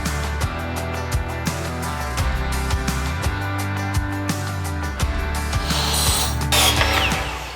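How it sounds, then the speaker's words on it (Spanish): Wooden boards are screwed onto a metal bed frame with a driver, producing rapid ratcheting clicks and mechanical whirring in repeated runs, close and steady, with no talking. "En su mayoría era cortar y atornillar las maderas en la estructura metálica."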